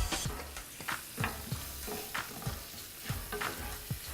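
Leeks seasoned with black pepper cook in a sizzling pan while a utensil scrapes and stirs them in a quick, regular rhythm, each stroke a close, distinct scuff over the steady frying hiss.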